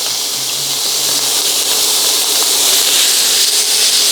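Onions sizzling in a little oil in a paella pan over a forest cooking fire, a loud, steady, close hiss that holds without a break.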